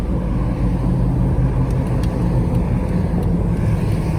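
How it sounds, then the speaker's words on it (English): Off-road tires on a lifted 2009 Jeep Wrangler JK hum and roar steadily while driving, a constant loud drone of road and engine noise with no talk. "It's going to have a little tire sound."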